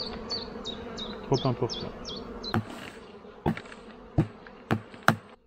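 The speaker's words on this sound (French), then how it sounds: "Les abeilles, je vais retourner à la nourrissoire pour donner un petit complément de nourriture." Honeybees humming around a hive during a spring inspection, a soft steady buzz broken by short tones and several sharp knocks, with a person briefly speaking.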